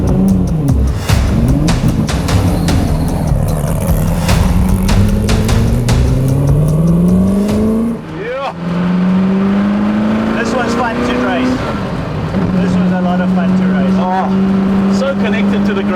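Ford GT engine revving hard as the car accelerates on a track, its rising engine note climbing through the gears, loud and close with a shift break midway, under a person's talk.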